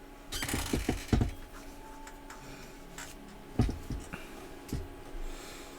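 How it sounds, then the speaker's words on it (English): Typewriter loading screen in the game Honkai Star Rail: faint, irregular mechanical taps and clacks, clustered in short bursts with gaps, over a quiet background hum. "The typewriter loading screen."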